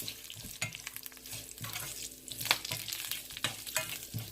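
Curry leaves crackle and fry in hot oil for a coconut chutney tempering, a steady close sizzle broken by a few sharper pops and the scrape of stirring, with no one talking.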